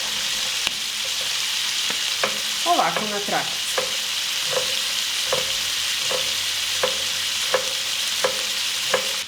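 Chicken liver frying in a pan, a soft continuous sizzle punctuated by regular sharp clicks of a utensil against the pan, with a brief spoken remark partway through.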